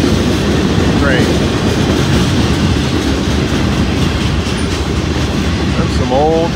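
A 146-car freight train rumbles past up close in Greenwich, Ohio, wheels clattering over the rails in a steady dense roar, with occasional faint squeals of metal.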